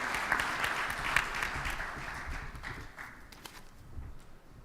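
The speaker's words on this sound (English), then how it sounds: "Please give these guys a round of applause." A conference audience at a state IT workforce general session applauds, a steady wash of clapping that slowly fades over a few seconds, heard from the room without voices.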